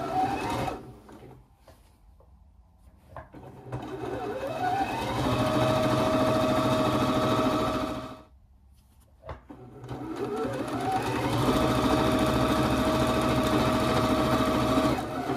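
A sewing machine runs straight seams joining rectangular fabric panels for a sleeveless dress skirt, in two steady whirring runs separated by a short pause, close and loud with no talk.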